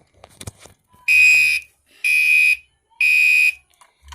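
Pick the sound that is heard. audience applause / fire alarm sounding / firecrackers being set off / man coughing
fire alarm sounding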